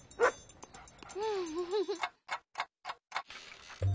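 A cartoon dog in an animated detective series gives a short sharp yelp, then a drawn-out wavering whine, followed by a series of quick ticking clicks.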